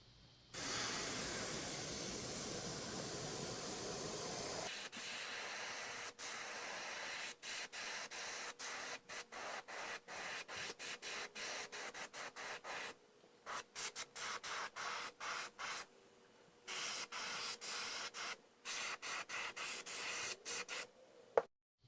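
Spray paint in iridescent green hisses onto a wooden 7-inch minnow lure: a loud, steady close hiss for about five seconds, then a long run of scattered clicks and handling noises.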